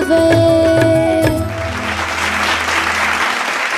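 Strong applause from an audience for a singer at a grand finale stage event, breaking out as the music ends and continuing as a dense, even clatter of clapping hands.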